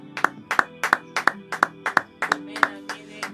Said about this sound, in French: On peut acclamer pour la gloire de Jésus-Christ